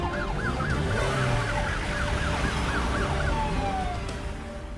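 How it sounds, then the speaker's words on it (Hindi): A car siren wails in a repeating rising-and-falling pattern over steady road and engine noise, loud and close, with no talking. "सर की गाड़ी में सायरन लगाया और शक्तिमान की तरह गया है।"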